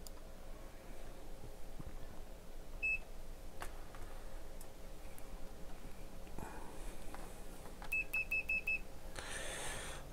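A multimeter beeps during continuity checks on a water-damaged MTX Thunder 250X car amplifier, giving one short beep and later a quick string of four, faint against a low background hum.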